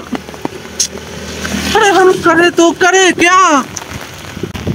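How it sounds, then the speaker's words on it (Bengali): Rain falls outdoors as a steady wash throughout, with someone talking over it in the middle. "একটু আমার সঙ্গে হেঁটে আসো বৃষ্টির মধ্যে"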